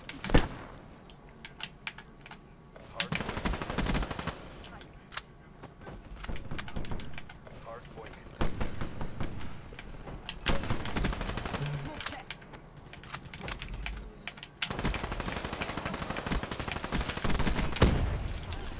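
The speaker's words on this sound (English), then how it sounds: "And out comes the shotgun." Gunfire in Black Ops 3 as a shotgun comes out, loud bursts of shots and rattling fire in clusters separated by quieter gaps, with a player's voice talking over parts of it.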